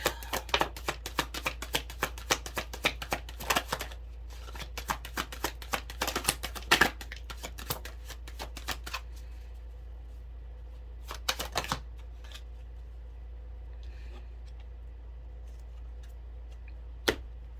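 An oracle card deck (Rebel Deck) is shuffled by hand in rapid riffling bursts of papery flicks over roughly the first twelve seconds, then stops to a faint room hum with a few isolated card taps.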